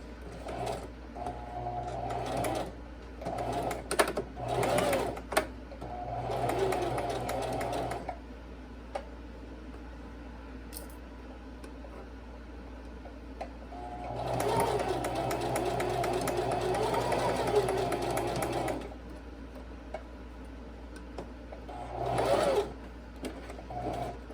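A sewing machine stitches a seam on a fabric face mask in several bursts of rapid mechanical whirring, separated by quiet pauses and small handling noises, close and fairly loud.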